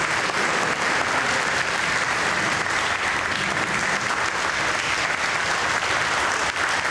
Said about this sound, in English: Give you a round of applause for it.